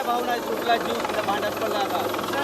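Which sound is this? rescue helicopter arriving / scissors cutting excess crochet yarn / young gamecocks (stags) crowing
rescue helicopter arriving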